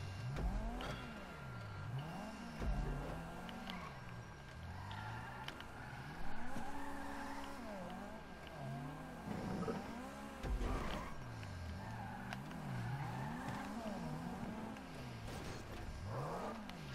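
A car in a racing video game drifting, its engine revving up and down in repeated sweeps while the tires squeal through long slides, loud and continuous with almost no talk.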